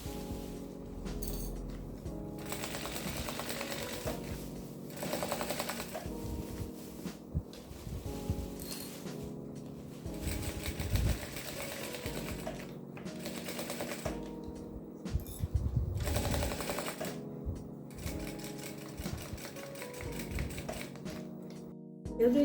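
A sewing machine stitching slowly through plastic runs in short uneven bursts of rapid mechanical clatter, with pauses between and faint background noise.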